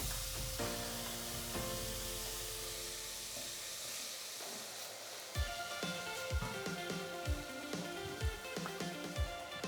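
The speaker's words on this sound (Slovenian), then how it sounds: "Čebulico bom čisto malo prepražila." Onion lightly frying in a pan, giving a steady, soft sizzle and hiss throughout, with a few duller knocks and clatters in the second half as the pan or utensil is handled.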